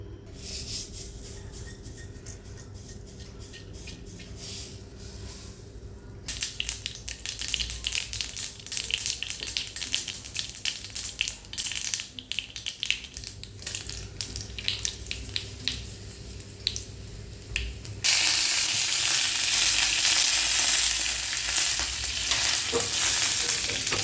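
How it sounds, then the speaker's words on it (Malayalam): Mustard seeds spluttering in hot coconut oil for a potato curry: a steady close sizzle and crackle that swells into a loud, dense, continuous popping spatter near the end. "ഇനി കടുക് കാച്ചിയിടുക കുറച്ച് വെളിച്ചെണ്ണ ഒഴിച്ച്"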